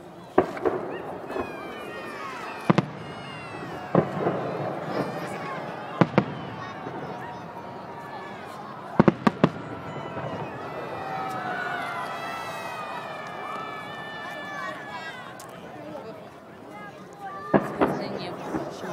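Fireworks salute bursts in the night sky, sharp bangs and crackles popping at irregular intervals over a noisy crowd, with voices chattering and calling throughout.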